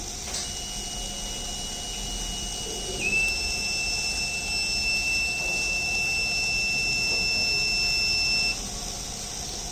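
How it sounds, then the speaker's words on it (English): A steady, thin electronic low-battery alert buzzer from an electric vehicle battery management system drones on for several seconds over a faint background hum, with no talking. "if battery become low, buzzer will give a buzzer alert"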